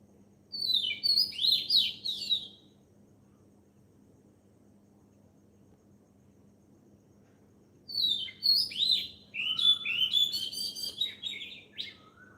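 A songbird sings in the morning in two bright, rapid chirping bursts separated by a long quiet stretch, with crickets trilling softly throughout.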